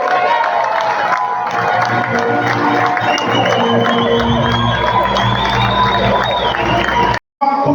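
A crowd at a handball match between US and Valence applauds and cheers, a loud sustained roar of clapping and shouting with children's voices, ending in a brief cutoff.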